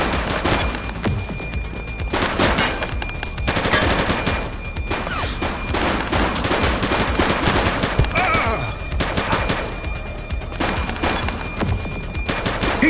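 Sustained bursts of gunfire and rapid automatic fire during a bank robbery shootout in the video game The Precinct, loud and dense with repeated volleys and brief pauses throughout.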